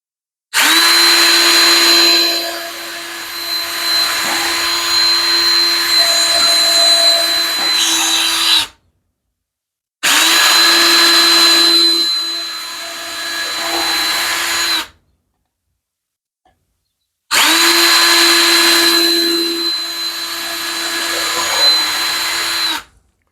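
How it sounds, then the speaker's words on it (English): A power drill bores holes into a door frame in three long, loud runs of steady whining, separated by short pauses of silence. "What we're going to do is drill our holes"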